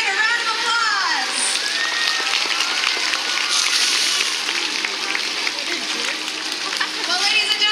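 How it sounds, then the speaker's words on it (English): Crowd applause at a killer whale show for orcas Kasatka and Orkid, a dense, steady clatter of clapping with splashing water, layered under an amplified announcer's voice. "Let's give Kasatka and Orkid a round of applause."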